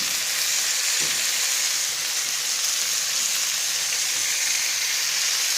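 Thick-cut mushrooms sizzle on a barbecue beside steaks, giving a loud, continuous crackling hiss that holds steady throughout with no talking.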